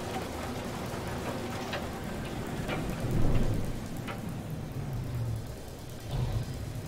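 Rain falling in a video game world, a steady close hiss of downpour with a few brief taps and a swelling low rumble partway through.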